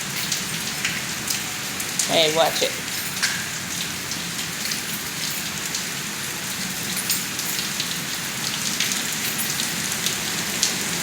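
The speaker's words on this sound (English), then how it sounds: "There's more rain coming this way because the wind's blowing it this way." Wind-blown rain patters steadily on surfaces nearby, a soft continuous hiss, while a voice briefly speaks early on.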